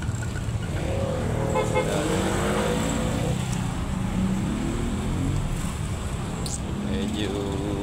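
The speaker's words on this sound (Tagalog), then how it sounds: "traffic na rin dito kahit" Street traffic in a narrow alley near a market in Cabanatuan, a steady wash of car and motorcycle engines with occasional horn toots, people talking throughout over the continuous rumble.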